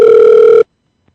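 A telephone tone sounds on a call being reconnected through Google Voice, one loud steady electronic ring lasting just over half a second before cutting off to silence.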